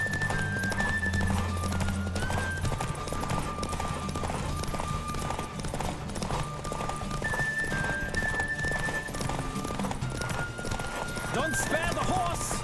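A horse gallops during a race in The Witcher 3, its rapid clip-clop hoofbeats running continuously with neighs and whinnies, mixed under game music and voices talking.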